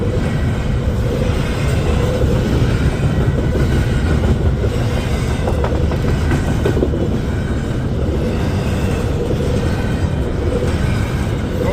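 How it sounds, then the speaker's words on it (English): An intermodal freight train led by a single locomotive rolls past on Christmas Eve, a loud, steady rumble of wheels and rail clatter filling the whole stretch without letup. "It does have a single locomotive on the front, and looks like it's intermodal."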